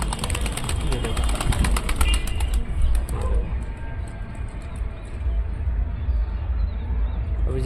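Wings flap in a quick burst as a pigeon takes off from a rooftop, over a steady engine-like rumble, with a voice speaking nearby.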